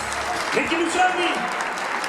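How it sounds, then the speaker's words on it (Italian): An audience at a live concert applauds, a steady wash of clapping that holds evenly through the whole moment, with a voice faintly underneath. "un applauso"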